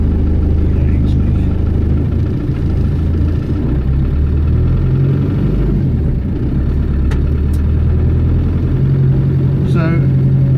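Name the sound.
1990 Range Rover engine idling, rattly when cold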